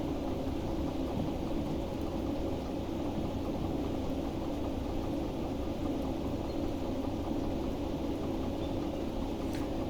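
Steady rain hisses in the video game Derail Valley, with a low continuous rumble of thunder underneath, even and unbroken throughout at a soft level.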